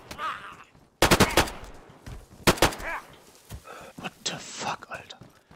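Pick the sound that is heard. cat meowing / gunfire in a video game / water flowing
gunfire in a video game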